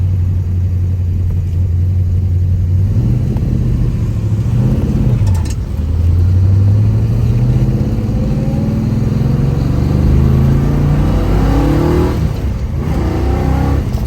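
A 1968 Pontiac GTO V8 revs hard and pulls up through manual gear changes, loud and close, the engine note climbing, dropping at each shift and climbing again, with no talk over it.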